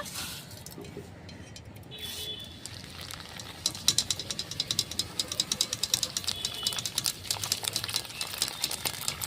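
A whole packet of sago pearls fries in well-heated oil, a steady close sizzle with a fast run of crisp popping and crackling that grows denser partway through.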